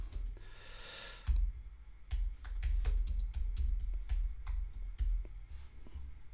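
Someone types on a computer keyboard in bursts, close and crisp key clicks with short pauses, after a quiet breathy moment at the start.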